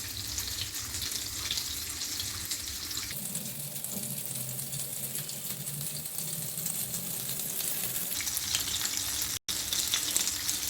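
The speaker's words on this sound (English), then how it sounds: "I am doing shallow fry to make my dish more healthy" Breaded basa fish fillets shallow fry in a pan, a constant close sizzle and crackle that shifts in tone partway through, with a brief dropout near the end and no voices.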